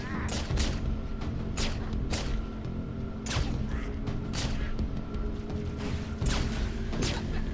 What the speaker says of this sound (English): Isn't that, like, meek the pistol sounds, too? Not a very powerful sounding weapon.